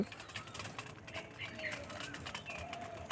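Soft pigeon cooing amid a busy background of scattered bird calls and faint voices, low and continuous rather than loud.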